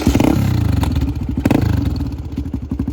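A 1996 Honda XLR250 motorcycle engine runs close by with a rapid, loud single-cylinder thump. It idles unevenly and gets two quick throttle blips.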